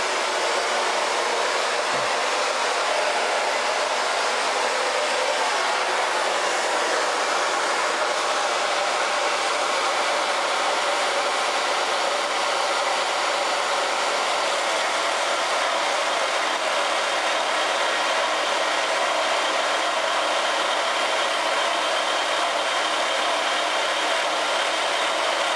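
A Makita 2107F portable bandsaw runs continuously with its trigger locked on, giving a loud, steady, unbroken mechanical whir that holds evenly throughout, close by and with no voices.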